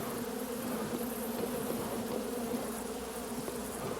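Swarm of honey bees buzzing around a honey tree in a Louisiana swamp, a dense continuous drone of many wings at steady level throughout, with no voices.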